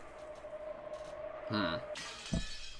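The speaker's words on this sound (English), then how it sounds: "Shatter." A shattering sound effect from the Umineko When They Cry visual novel breaks in over a steady background music tone, a brief bright crash followed by a low thud.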